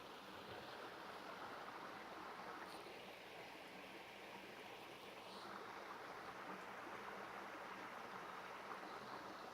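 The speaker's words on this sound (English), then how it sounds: "It's fun listening to the stream." A mountain stream on the Appalachian Trail near Three Forks flows with a steady, soft rushing wash, fairly faint and unbroken, with no one speaking.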